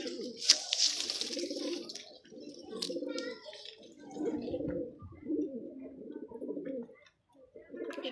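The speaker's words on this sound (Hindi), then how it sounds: "और बहुत ही तगड़े ये कबूतर हैं।" Sturdy domestic pigeons held in hand coo repeatedly in low, throaty phrases, fairly close and continuous over the whole stretch, with a few brief higher chirps near the start.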